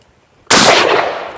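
One loud, close shot from a Silver Eagle XP-15 shotgun firing buckshot with no choke, a sudden sharp blast that booms and decays over about a second.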